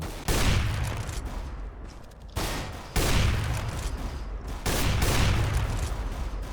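Bursts of automatic gunfire in the video game Counter-Strike: Global Offensive, several loud sustained volleys with brief pauses between them, rattling close and heavy without talk.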